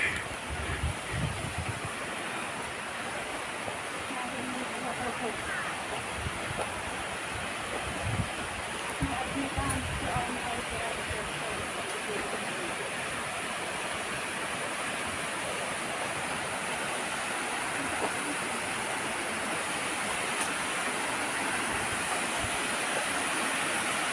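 A waterfall on Monkey Mountain pours in a steady, full rush of broadband noise that holds without a break throughout, fairly close and uninterrupted.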